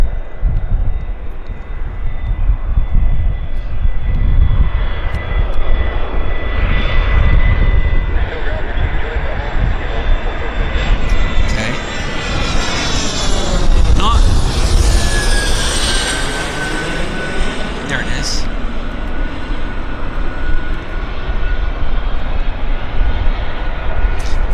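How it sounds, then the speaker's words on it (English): A business jet at Vancouver Airport roars past continuously, a loud steady jet rumble with a rising and falling whine as it goes by, heard from a spotting position. "It's a bizjet, actually."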